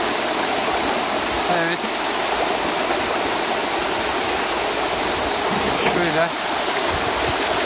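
Güney waterfall in Denizli roars steadily beside a dam, a dense broadband rush of falling water that fills the scene, with a person speaking briefly over it.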